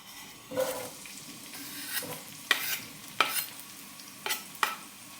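Onions and peppers fry in a few tablespoons of oil in a pan for a curry, a low steady sizzle broken by several sharp stirring scrapes and clacks of a utensil against the pan.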